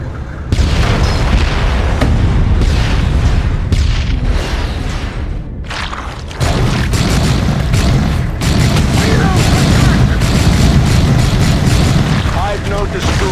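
Heavy explosions roar continuously as a hive node is destroyed in Warhammer 40,000: Dawn of War II, dense rumbling blasts and booming impacts layered with battle noise, loud throughout and briefly dipping midway, with voices partly buried in the din.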